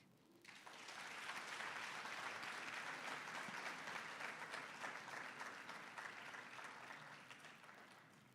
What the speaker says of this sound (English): Please give a round warm of applause to Mr. Tember Khodzo, the CEO of Land Bank.